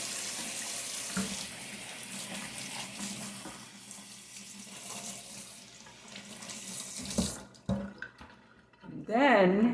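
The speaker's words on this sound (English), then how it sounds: "And then rinse the seeds out of it." Running tap water pours steadily into a kitchen sink as seeds are rinsed out of a broken-open pepper, a close, continuous rush that briefly stops and then returns with splashing and trickling.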